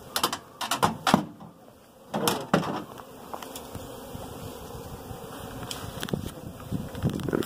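Honey bees fly right around a beekeeper handling a cluster at a bee ranch, their buzzing steady throughout, while several loud bursts swell as individual bees pass close to the microphone.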